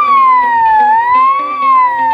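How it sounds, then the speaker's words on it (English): A loud electronic siren from a portable loudspeaker's siren button wails steadily, its tone sliding down and up in a slow sweep, heard close and alone. "There's even a siren button."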